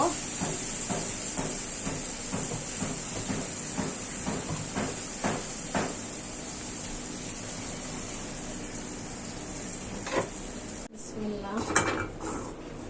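Potatoes for a spiced potato curry clatter and sizzle in a pot, with utensils scraping against the metal, then water is poured in near the end with a sudden rush of hiss and steam.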